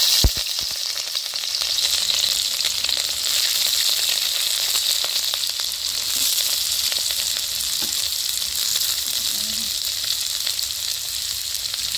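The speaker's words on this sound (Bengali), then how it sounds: "জিরা আর কালি জিরা একসাথে, পেঁয়াজ কুচি করে কাটিয়ে নিছি আর কাঁচা লঙ্কা দিয়ে দিব।" Cumin, nigella seeds, chopped onion and green chili fry in mustard oil, a loud, continuous sizzle and hiss close up, with faint stirring in the background and no speech.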